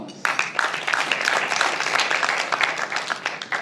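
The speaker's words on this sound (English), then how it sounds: "Can you give yourselves a big round of applause?" A conference audience at a youth leadership forum claps in a dense, steady round of applause that holds at an even level throughout.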